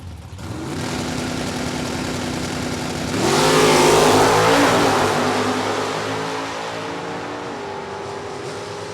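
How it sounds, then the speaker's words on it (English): A Pontiac Firebird and an Oldsmobile with automatic transmissions launch side by side down a drag strip, engines revving loud and rising together into a roaring full-throttle pull that peaks, then fades slightly as the cars run away. "Stufflebeam, Super J automatic and the Firebird. Zach Running a GTI automatic Oldsmobile."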